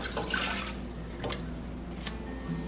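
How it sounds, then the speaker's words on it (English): Water poured into a saucepan holding two sticks of butter, a soft splashing stream in the first moments, then a few faint drips and gurgles over a low background hum. "we're going to put in the 2 sticks of butter and the water to boil"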